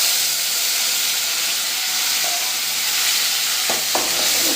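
Ginger garlic paste and ground onion fry loudly in a pan for egg gravy, a dense, even sizzling hiss that holds throughout, with a couple of faint utensil clinks near the end.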